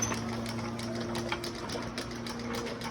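A small ATV motor runs steadily, giving a continuous buzzing, rattling drone at moderate distance with no talk over it.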